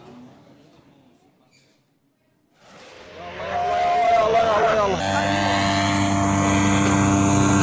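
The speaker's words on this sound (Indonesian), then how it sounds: "Drone ini tampak berjejer dalam terowongan yang terlindungi sebelum salah satunya lepas landas dan melesat menyusuri lorong bawah tanah." An Iranian Kaman 12 combat drone takes off inside an underground tunnel, its engine building from near silence into a loud, sustained roar with a steady whine that fills the enclosed passage.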